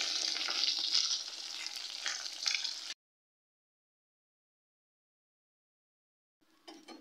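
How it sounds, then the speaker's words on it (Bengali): Bori lentil dumplings fry in hot oil in a home kitchen, the same oil just used for rohu fish: a loud, steady sizzle for about three seconds, then near silence, then a faint crackle returning at the very end. "এবার এই তেলের মধ্যেই আমি কতগুলো বড়ি ভেজে নেব।"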